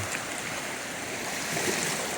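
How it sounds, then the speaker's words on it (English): Floodwater from Hurricane Helene streams steadily across a flooded campground road, a continuous rushing, trickling wash heard close and alone without a break. "the water is completely covering the road"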